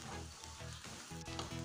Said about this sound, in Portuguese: Quando começar você sentir que está fritando o alho mais a cebola